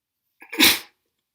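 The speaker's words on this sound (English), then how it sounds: "I've been sneezing like this since January, every morning." One sharp sneeze from a person with allergies, a brief intake of breath leading into a single explosive burst that cuts off abruptly, close to the microphone in a quiet room.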